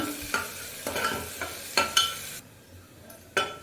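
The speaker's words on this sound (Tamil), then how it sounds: "வெங்காயம் நல்ல கலர் மாற வரைக்கும் வதக்கிக்கோங்க" Onions frying in a pan with curry leaves and green chillies, a hissing sizzle broken by several sharp spoon strokes and scrapes against the pan, close and fairly quiet.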